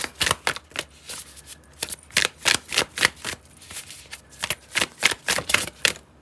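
Tarot cards being shuffled and drawn, a steady run of crisp riffling bursts and slaps, close and fairly loud, with no talking.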